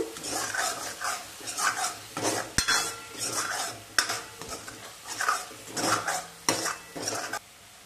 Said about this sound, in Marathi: आता यामध्ये घालू चवीपुरतं मीठ आणि पुन्हा एकदा हा मसाला असा परतवून घेऊ